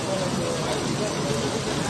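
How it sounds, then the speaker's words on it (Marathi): A downpour in Manwath on Ghatasthapana day keeps up a thick, even hiss of rain hitting surfaces, with a voice talking faintly over it. "आपण लय भयानक पाऊस पडायला."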